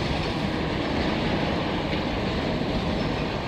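One CN freight train led by a single locomotive rolls through a Montreal rail yard, a steady, close, continuous rumble and rattle of cars with no gaps.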